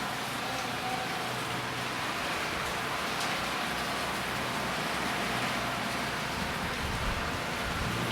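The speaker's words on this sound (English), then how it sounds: "can y'all even tell it's raining?" Steady rain patters outside during a tropical storm in Puerto Rico, a continuous, even hiss, with no voices and no distinct drops or thunder standing out.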